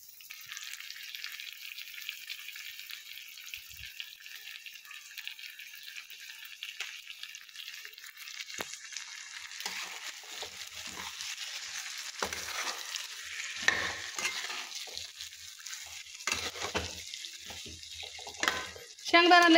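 Eggplant pieces fry in hot oil, with a thin, steady sizzle and occasional stirring scrapes that grow busier toward the end. The sound is fairly quiet and close, with no talk.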